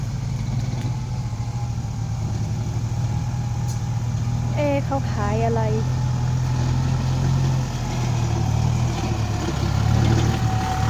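A tractor engine idles and chugs steadily throughout, a low continuous rumble, with a person briefly talking over it.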